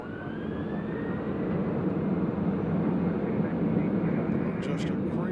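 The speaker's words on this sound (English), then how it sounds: "So this is a Delta Airlines going to LAX as well." A Delta Airlines plane at Nashville International Airport gives a steady, loud broadband engine roar that holds without a break, with faint tonal whines above it.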